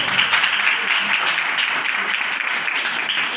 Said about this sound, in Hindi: यीशु के जलाल के लिए जोरदार ताली बजाएं।